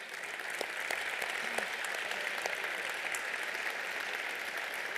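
At an award ceremony for self-employed workers in Navarra, an audience claps steadily for the sign language interpreters, a sustained moderately distant wash of many hands with a few sharper individual claps standing out, holding evenly throughout.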